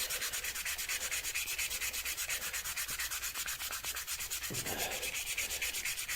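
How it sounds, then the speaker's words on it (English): Steady rhythmic hand sanding, quick back-and-forth rubbing strokes close by, continuous throughout with no talking. "just sanding away."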